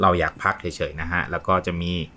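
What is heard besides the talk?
No distinct noise like a dog, phone or traffic.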